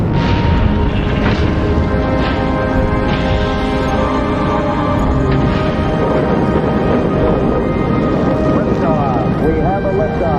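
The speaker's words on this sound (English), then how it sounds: "We have a liftoff, 32 minutes past the hour. Liftoff on Apollo 11." Saturn V rocket engines roaring at the Apollo 11 liftoff, a loud, dense, continuous rumble with crackling bursts throughout, while a voice speaks over it.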